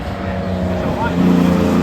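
An Austin Healey Sprite race car at the Harewood hillclimb, its engine a steady drone that swells slightly as it passes, with a commentator talking over it.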